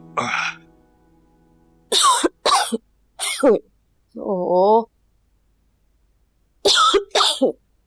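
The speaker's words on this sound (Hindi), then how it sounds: "क्यों नहीं रुक रही है खांसी?" Persistent, harsh coughing from a person in a domestic drama scene: about five loud, throaty coughs in two clusters, separated by a brief voiced groan and short silences.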